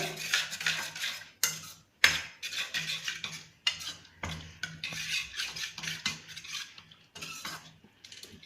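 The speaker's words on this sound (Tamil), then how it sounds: "ஆட் பண்ணிவிட்டு நல்லா கிண்டி விடுங்க அதாவது கிண்டி விட மட்டும் இல்லைங்க நல்லா இப்படியே அமுக்கி அமுக்கி செஞ்சு விட்டுருங்க" A spoon stirring and pressing a homemade hair oil mixture in a metal vessel, giving repeated scraping and clinking strokes in an uneven rhythm with short pauses, close by.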